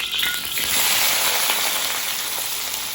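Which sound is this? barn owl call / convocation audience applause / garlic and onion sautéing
garlic and onion sautéing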